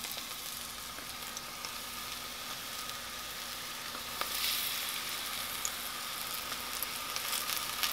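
Dandelion flowers fry in hot oil with a steady, close crackling sizzle that swells noticeably about halfway through. No one speaks over it.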